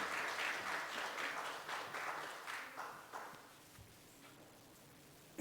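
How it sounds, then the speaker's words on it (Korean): Church congregation applauding during a Sunday worship service, a dense, steady clapping from many hands that holds for several seconds, then thins and fades to near quiet at the end. "이제 축하의 박수, 축복의 박수를 부탁합니다"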